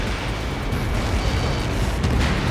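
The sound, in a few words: explosion in video game Ace Combat 7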